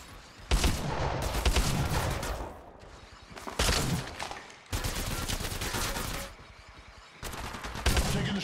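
Gunfire in Apex Legends comes in four loud, rapid bursts of automatic fire, separated by short quiet gaps.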